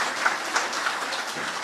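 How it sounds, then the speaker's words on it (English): Audience applause at an evening awards-style gathering, a steady broadband patter of many hands clapping, fairly close and continuous throughout with no talk over it. "Give her a round of applause."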